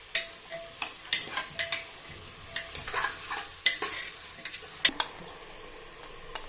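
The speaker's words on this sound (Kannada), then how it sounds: "ಬೀನ್ಸ್, ಪೊಟ್ಯಾಟೊ, ಗಜ್ಜರಿ ಎಲ್ಲ ಹಾಕಿ ಚೆನ್ನಾಗಿ ಫ್ರೈ ಮಾಡ್ಕೊಳ್ಳೋಣ." Beans, potato and carrot fry in a pan, a spatula knocking and scraping in irregular bursts over a light, steady sizzle, close by, with no voices.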